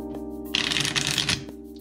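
A quick riffle shuffle of playing cards, one crisp burst of fluttering snaps lasting under a second, close up over a low steady hum.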